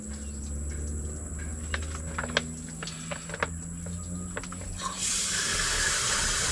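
Steady running water from a tap filling a container, a continuous hiss with faint clinks and drips, growing brighter and fuller near the end as the flow changes.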